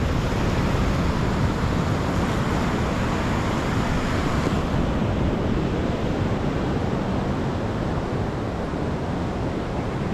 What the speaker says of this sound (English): Look at that surf too.